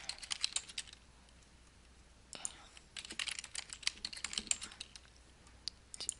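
Computer keyboard keys tapped while a password is entered, quick irregular clicks in short bursts separated by brief pauses, close and moderately quiet.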